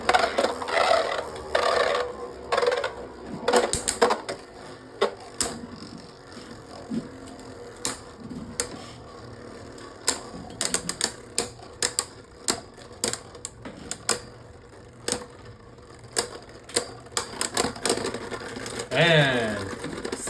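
Beyblade Burst tops Cyclone Belfyre and Devastate Belfyre clash in a stadium, with rapid irregular clicks and metallic clacks of repeated collisions over a steady spinning whir, ending in a brief scrape as one top stops.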